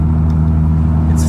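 A 1989 Toyota Mark 2 GT twin turbo, rear-wheel drive, pulls away with a close, steady low engine drone that holds firm through the short moment, with a faint voice in the background.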